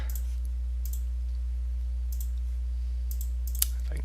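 A computer mouse clicks while working in an Excel spreadsheet: a few faint, sparse, sharp clicks, one slightly louder near the end, over a steady low electrical hum.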